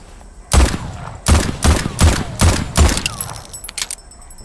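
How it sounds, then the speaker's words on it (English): Revolver reload in the video game Voidtrain: a quick series of sharp metallic clacks and rattles, about five strong hits in rhythm, then lighter clicks as the cylinder is swapped, close and loud. "That's a really quick reload. It just ejects the entire cylinder and puts a new one in."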